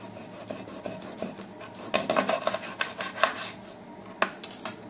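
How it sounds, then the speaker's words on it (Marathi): A knife saws and scrapes through a rawas fish at the gill side during home cleaning, giving a run of close rasping, rubbing strokes of moderate loudness with brief quiet gaps and no talk. "आता हे हा जो गिल्सच्या साईडचा भाग आहे तिथून आपल्याला कट करायचे आहे फर्स्ट."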